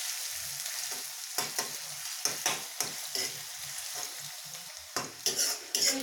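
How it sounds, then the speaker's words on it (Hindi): Chopped onions fry in hot oil for bhindi do pyaza, a steady sizzle broken by repeated scraping strokes of a spoon stirring them around the pan, close and clear. "प्याज को अच्छे से मिक्स कर दें और और इसे 1 से 2 मिनट तक ऐसे फ्राई कर लेना।"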